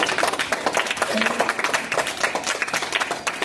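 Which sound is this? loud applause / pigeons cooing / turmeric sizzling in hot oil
loud applause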